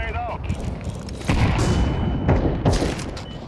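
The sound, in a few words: grenade explosion in a video game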